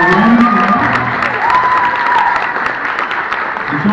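Audience applause at a Christmas program featuring a children's performance, loud and continuous clapping from a crowd with scattered cheers and voices mixed in throughout.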